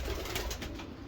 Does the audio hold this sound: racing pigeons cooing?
yes